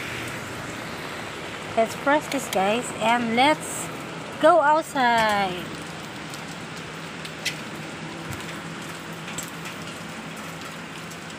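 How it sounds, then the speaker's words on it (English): A steady hiss of falling rain runs throughout while a person talks over it for a few seconds near the start. "It's raining. Wow, it's raining, guys."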